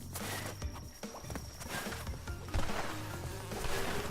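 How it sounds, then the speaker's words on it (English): Bees buzzing in the platform game Crash Bandicoot 2, a thin steady drone under busy game music, footsteps and impact effects, fairly close and moderately loud. "Oh, I forgot about the bees. What do I do with the bees?"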